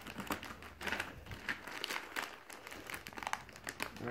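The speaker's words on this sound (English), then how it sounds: "let's rip this box open slowly" A Foot Locker cardboard shipping box is ripped open slowly, giving dense crinkling, tearing and tapping noises up close in quick irregular bursts, with a voice murmuring faintly at moments.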